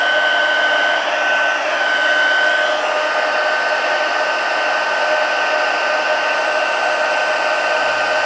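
Heat tool with two settings blowing hot air to melt crystals, a loud continuous hair-dryer-like whoosh and whine that holds steady throughout with no one speaking.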